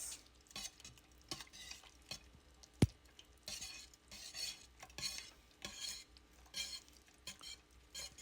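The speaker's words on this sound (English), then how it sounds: "I'm going to whisk this." Sugar being whisked in a bowl for sweet potato pound cake batter, making rhythmic scraping strokes with light clinks of the whisk against the bowl and one sharp knock partway through; quiet and close.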